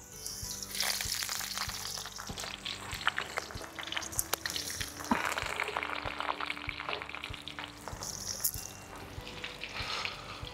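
Onions sizzle steadily in a pan of hot oil with cinnamon sticks and cardamom pods, a continuous close frying hiss with occasional stirring clatter and no talking.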